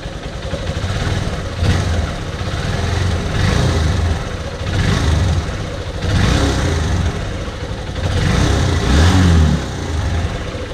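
An engine with a faulty carburetor runs close by, a loud, rough rumble that surges and dips in repeated waves as the throttle rises and falls.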